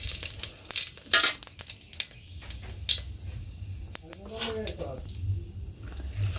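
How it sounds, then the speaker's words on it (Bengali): Dried chilies, cumin and radhuni tempering sizzle in hot oil in a home kitchen, a soft crackle with stirring clatter, utensil taps and brief bursts, while a voice talks nearby. "শুকনো মরিচ আর জিরে রাঁধুনি ফোড়ন দিয়ে দিলাম"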